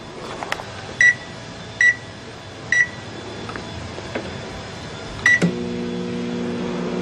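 A microwave oven running with its outer cover removed gives a few short, evenly spaced keypad beeps, then a steady electrical hum starts near the end and carries on alone.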